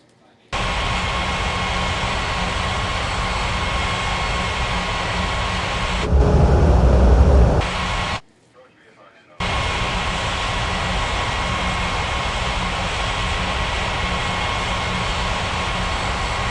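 An airliner taxiing to the gate in an air traffic control video game gives a loud, steady engine drone that surges briefly, cuts out for about a second, then resumes as a constant rumble.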